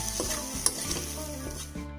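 A spoon stirs spices into vegetable curry in a hot pan, with a steady sizzle of frying and a few scraping strokes against the pan's side.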